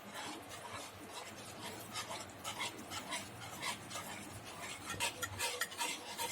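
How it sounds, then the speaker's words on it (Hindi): Rice flour batter with spices is mixed in a bowl, giving a steady scraping and sloshing of spoon against the bowl that continues throughout, with short louder strokes and no talking. "सब चीजों को अच्छे से मिक्स कर लेंगे कि इसमें कोई भी लम्स ना पड़े।"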